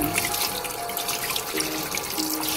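Hot tap water runs into a kitchen sink while chicken is washed in it for soup, a steady close splashing stream with small shifts in flow and no talk.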